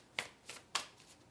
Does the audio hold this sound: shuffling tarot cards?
yes